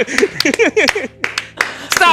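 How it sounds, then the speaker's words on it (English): Several people clap in short uneven bursts around a tabletop game session, with lively talk and laughter mixed in between the claps. "Stop clapping."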